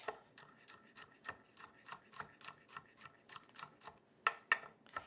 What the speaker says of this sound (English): We'll start chopping the garlic.